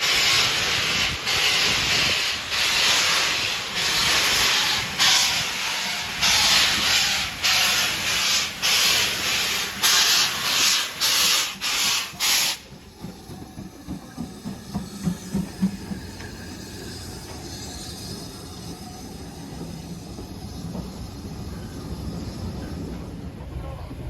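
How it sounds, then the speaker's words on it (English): A steam train at Pickering station releases a loud, continuous roar of hissing steam with rhythmic chuffing pulses, then the hiss drops to a quieter, steady rush as the engine works slowly. "we're just going to see if we can see the train come in and maybe leave"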